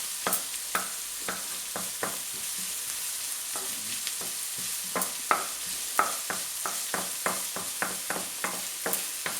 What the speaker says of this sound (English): As you can see, the onion is beginning to cook nicely.